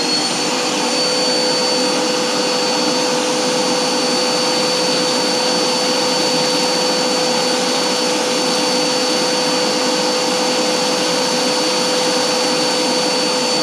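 A vacuum runs at a high suction setting, a loud, steady, unbroken motor roar with a thin whine held throughout, close and alone with no talk.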